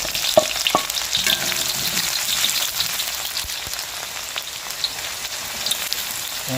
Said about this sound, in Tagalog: Ginisa muna po natin sa mantika bago natin lagyan ng butter.